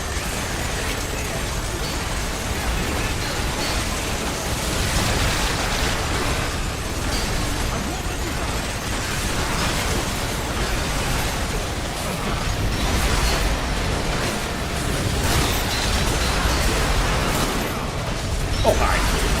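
Enemy shotgun fire in the Earth Defense Force 6 video game: a dense barrage of repeated blasts and bursts amid constant battle noise, loud and continuous, with some talking.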